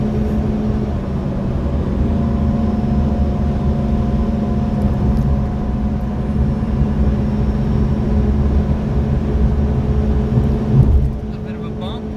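A Mitsubishi Pajero Mini kei car engine revving hard toward its 8,000 rpm limit during a top speed run, a steady droning hum with road and cabin noise throughout, fairly loud and unbroken until a brief bump near the end.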